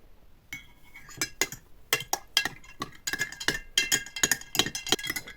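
Rapid clinks of a metal spoon stirring oats in a glass jar, irregular bursts of stirring and tapping, close and bright, with no voices.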